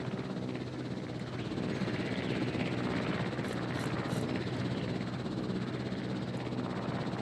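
A helicopter flies in a video game, its rotor giving a constant loud whirring drone that holds steady, with no talk over it.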